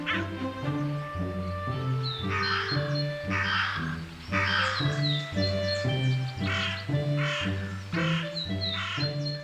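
Crows caw repeatedly in loud, harsh bursts, several birds calling in overlapping rhythmic series, close and clear against a quiet background.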